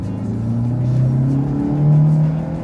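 Mercedes W124 engine revving hard in first gear, a loud steady drone with rising harmonic tones that climb and hold near the limit, close and continuous with no talk.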